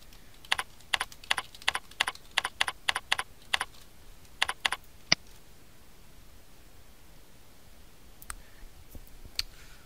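A run of quick, crisp computer keyboard keystrokes at a steady typing pace for about five seconds, then a pause and a few scattered key clicks; close and distinct, with no voices.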